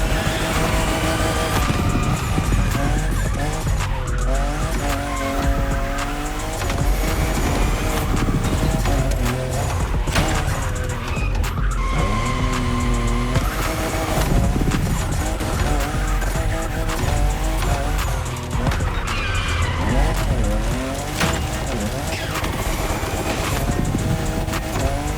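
A Toyota Supra, fifth generation, drifts in the Crew Motorfest racing game with continuous loud tire squeal and a revving, shifting engine, the skidding sustained and wavering throughout with no pauses.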